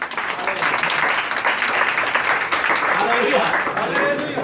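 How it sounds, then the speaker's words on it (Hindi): Worshippers gathered on a road for a live Sunday service clap together for God's glory, a dense, loud, continuous burst of hand claps with voices mixed in. "ताली बजा दो इसकी महिमा के लिए।"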